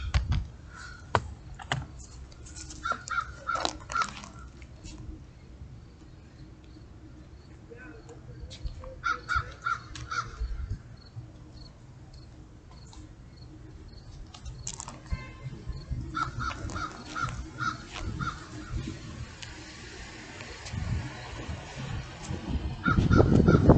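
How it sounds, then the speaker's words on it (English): Crows caw in short repeated bursts outdoors on a sunny day, heard at moderate distance amid ambient noise and occasional movement sounds. "Beautiful crows."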